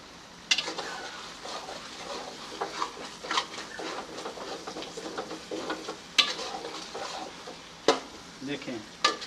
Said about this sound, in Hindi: अब थोड़ी देर के लिए इसे भून लेते हैं।